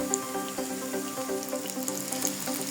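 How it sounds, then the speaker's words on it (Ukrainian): Zucchini fritters sizzle gently in a frying pan with soft, steady crackling and small pops, heard nearby and fairly quiet without any talking. "Млинці вже на сковорідці обсмажуються."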